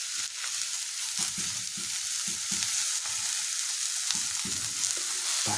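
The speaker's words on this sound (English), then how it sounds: "I'll get it on the frying pan with the mushrooms and they're sweated down a bit" Mushrooms sizzle and crackle steadily in an old frying pan, a loud continuous hiss with occasional stirring scrapes and pops, no talking.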